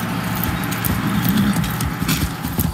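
A horse gallops in the video game Far Cry 6, its hooves striking in a quick, continuous clip-clop rhythm that sounds close and fairly loud.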